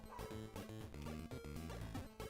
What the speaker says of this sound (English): Keeps barking. I think it's a new one as well.